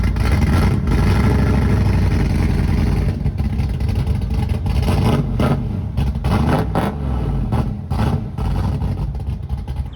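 A rebuilt 305 V8 engine in a 1985 IROC Camaro rumbles loudly and continuously, revving up and down with a deep, throaty roar close by.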